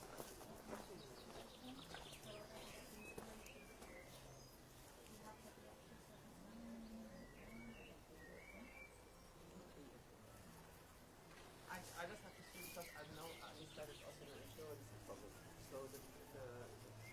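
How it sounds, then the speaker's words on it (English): Outdoor birds sing and coo around the park at the Findhorn ecovillage, faint chirps and calls scattered through the clip beneath steady conversation from nearby people. "Oh, listen to the birds."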